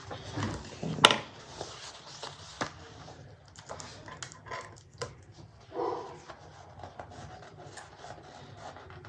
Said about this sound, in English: Oh, the dog wants to bark.